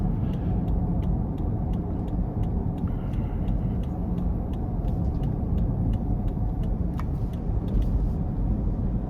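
A 2022 Lexus LX600 F Sport twin-turbo SUV drives along, heard from inside the cabin as a steady, loud low engine and road rumble that holds without a break, with no talking.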